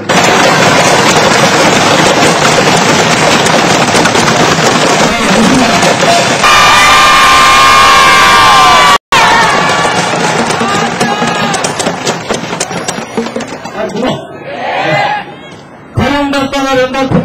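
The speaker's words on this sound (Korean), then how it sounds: "자, 준비! 박수 시작!" A large rally crowd outside the National Assembly applauds and cheers at a 2004 rental apartment federation protest, loud dense clapping and shouting that carries on steadily, later thinning into mixed voices and scattered noise.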